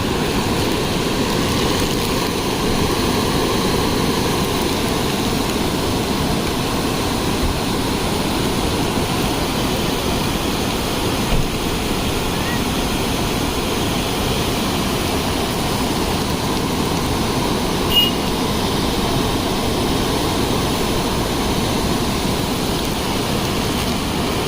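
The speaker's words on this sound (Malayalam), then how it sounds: "നമുക്ക് തുഷാരഗിരി വെള്ളച്ചാട്ടം കാണാം" Thusharagiri waterfall near Kozhikode, Kerala, pours in a steady, dense rush of water that holds an even roar throughout, with no voices over it.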